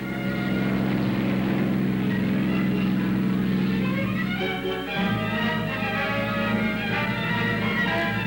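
A wartime aircraft passes overhead, a steady droning engine hum that holds its pitch, shifts at about the midpoint and carries on loud and continuous, with no speech.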